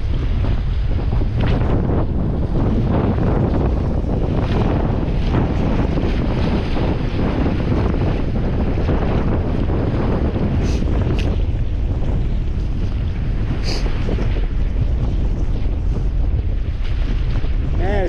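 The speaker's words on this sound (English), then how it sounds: "Man, it's getting windy." Strong wind blows hard on an open shoreline or boat during a winter fishing trip, roaring and buffeting the microphone in loud, continuous gusts that rise and fall for the whole stretch.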